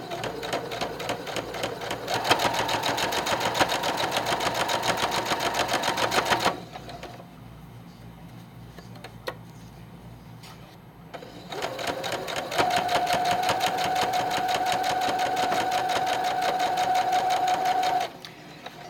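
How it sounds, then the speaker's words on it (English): A sewing machine runs a straight stitch while making a rectangle rug. It buzzes in two long, steady runs with rapid mechanical rattling, separated by a quieter pause, with no speech over it. "We're using a straight stitch."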